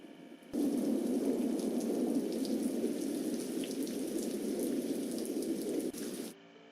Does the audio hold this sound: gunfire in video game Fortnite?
no